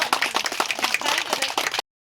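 A crowd claps hands at a wedding anniversary charity gathering in Bishnupur, a quick, dense patter of many claps lasting under two seconds before cutting off abruptly.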